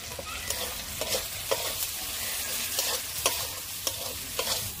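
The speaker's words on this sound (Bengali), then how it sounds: "আরও একটু ভালো করে কষিয়ে নেব যতক্ষণ না মশলার মধ্যে থেকে তেলটা ছাড়তেছে" Spice masala with salt, turmeric and chilli powder is stirred and fried in oil, giving a continuous soft sizzle under regular scraping strokes of a spatula against the pan, close and moderately quiet.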